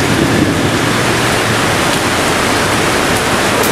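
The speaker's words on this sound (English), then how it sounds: "it's still pissing down with rain" Heavy rain pours down in a storm in Shanghai, a loud, steady, dense hiss of water that goes on without pause and with no voices.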